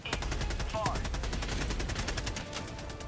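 Sentry gunfire in the video game Warhammer 40k Rogue Trader crackles as rapid, continuous bursts of shots, fairly close and steady for a few seconds, with brief faint electronic chirps mixed in.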